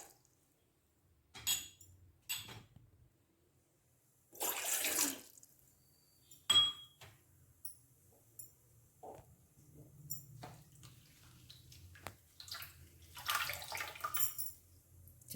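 Two cups of water poured for tea: intermittent splashing bursts of running water with quiet gaps between them, punctuated by faint clinks of a vessel, close and without speech.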